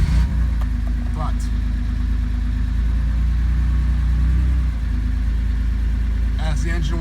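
Porsche 911 engine idling steadily as it warms up after a valve cover gasket job, a constant low mechanical hum close by, with someone briefly speaking over it at the start and end.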